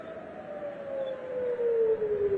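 A civil defense air raid siren in Jerusalem wails in a long, slowly descending tone, growing louder over a couple of seconds against a low background rumble.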